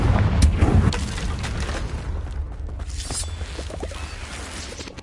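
A Confringo blasting spell in Hogwarts Legacy lands as a heavy boom at the start, followed by a fading rumble and scattered mechanical clatter.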